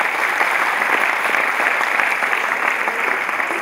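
Steady, even applause from an audience during a speech fills the whole stretch, a dense hiss of many hands clapping at constant loudness with no voices on top.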